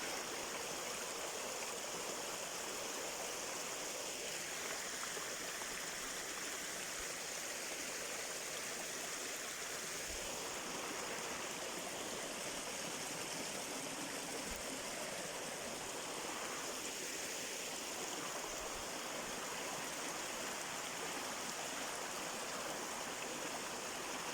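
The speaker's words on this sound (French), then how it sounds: "laisse-toi encore quelques instants bercer par le bruit de l'eau" Steady rushing and gurgling of a flowing stream, constant and fairly soft, with no voices.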